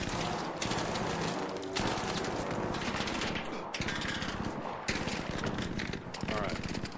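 Automatic turret gunfire in the ARC Raiders video game rattles in rapid, continuous bursts as it hits the player, with brief gaps between volleys and someone talking over parts of it.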